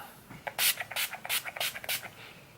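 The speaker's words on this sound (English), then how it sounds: "that is the Urban Decay All Nighter setting spray" Urban Decay All Nighter setting spray misted from a pump bottle in quick successive bursts, about six short close hisses in a steady rhythm over a quiet room.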